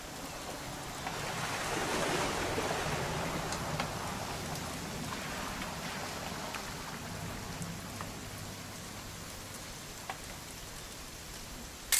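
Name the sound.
rain in What Remains of Edith Finch video game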